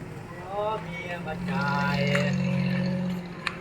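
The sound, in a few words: boats on the water at a Bangkok ferry crossing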